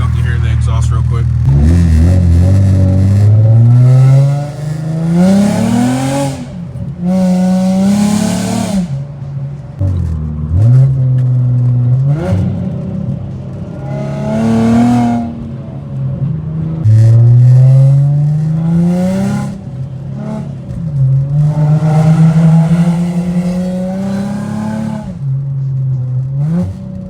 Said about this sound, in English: so y'all can hear the exhaust real quick.